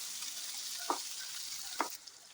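Onions fry in hot oil for an onion chutney, giving a faint, steady sizzling hiss broken by two brief clinks of a stirring spoon.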